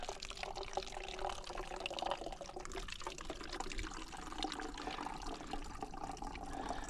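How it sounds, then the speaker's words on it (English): Filtered water trickles and splashes steadily into a bottle as a filter bag is squeezed outdoors, a soft continuous pouring with faint background noise and no talking. "Fill up the bag, it goes through the filter and it goes into my bottle"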